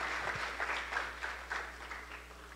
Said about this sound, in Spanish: otro aplauso para nuestra homenajeada Janet Miller